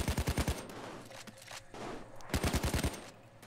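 Bursts of automatic gunfire pierce a wall in a bank heist video game: a rapid close volley of about six shots, a pause with scattered softer sounds, then a second similar burst.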